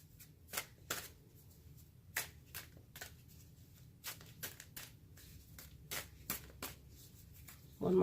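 Tarot cards being shuffled in short crisp bursts, about a dozen riffles and flicks spaced irregularly over a quiet room background, close and clear with no talking.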